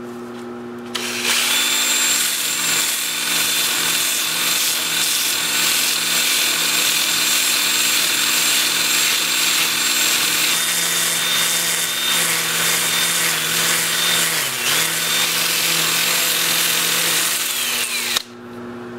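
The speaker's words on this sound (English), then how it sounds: "I'll sand up through 400, but I will start with my Sandoflex, as I said, at 180 grit" Turned wood spins on a lathe while being sanded with a Sandoflex at 180 grit, a loud continuous whirring hum with steady scratchy friction, running nearly the whole time before cutting off near the end.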